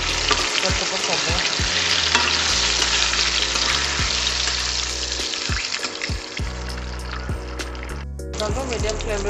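Spice masala for a dhaba-style egg curry sizzles loudly in a frying pan, with steady crackling frying and repeated scraping stirs of a spoon running throughout, and a brief pause near the end.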